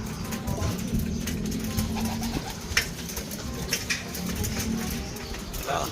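A homing pigeon back after 19 days away, from San Ricardo, Leyte to Pampanga, coos in low repeated phrases amid a busy outdoor background with occasional faint chirps and a brief wing flutter.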